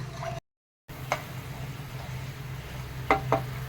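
Bhola fish curry gravy simmers in a pan with a low, steady bubbling sizzle and a few light clicks and taps. The sound cuts out briefly near the start.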